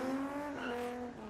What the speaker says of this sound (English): I try to do a skid in the driveway and lead it to the road, but yep, just slip, then it grips in